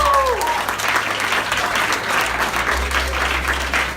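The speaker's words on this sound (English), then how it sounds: "Give yourself a round of applause." A class claps for itself in a dense, even round of applause that fills the room and holds steady throughout, with a brief voice at the very start.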